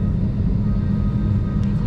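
Cabin of an airplane in flight, heard from a window seat: a loud, steady low engine rumble and airflow roar with no change over the short span and no talking.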